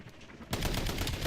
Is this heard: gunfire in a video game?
yes